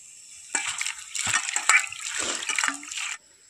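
Soaked red lentils being washed by hand in a bowl of water: a few seconds of wet swishing, sloshing and rattling grains, close and fairly loud, then quiet.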